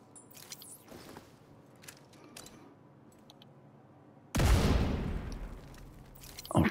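Video game combat with a thrown grenade and gunfire: scattered sharp shots and clicks, then a loud sudden blast that decays over a couple of seconds, with another burst at the end.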